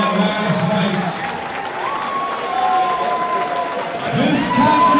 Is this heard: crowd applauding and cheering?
yes